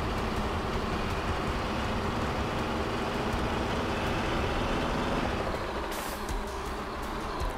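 A DAF Crawler truck drives through a forest in Euro Truck Simulator 2, its engine a steady, loud low rumble with a dense mechanical drone that holds throughout, with no voices over it.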